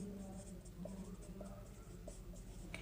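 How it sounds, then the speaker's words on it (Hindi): A teacher writes on a classroom board during a current affairs lesson, with soft repeated scratching strokes and light taps heard close, faint and unbroken by speech. "मतलब कि मैं यहाँ पर लिखता हूँ 8 मार्च"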